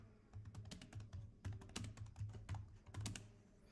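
Steady, close computer-keyboard typing while entering Go code: a quick run of crisp key clicks and taps, loud and unbroken, with no talking.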